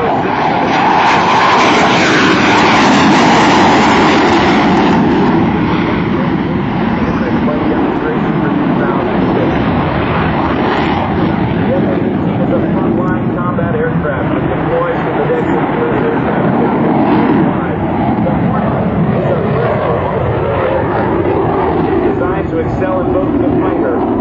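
An F/A-18C Hornet jet fighter roars continuously through an airshow demonstration at NAS Oceana, loud and sustained with a shifting engine rumble, while an announcer talks over it.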